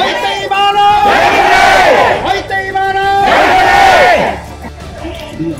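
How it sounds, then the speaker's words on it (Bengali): Manipuri protesters chant slogans together, rising in two long loud bursts of crowd voices before fading to a lower murmur. "কুকি সশস্ত্র বাহিনীর বিরুদ্ধে কঠোর ব্যবস্থা নেওয়ার দাবিতে স্লোগান দেন প্রতিবাদী মণিপুরীরা"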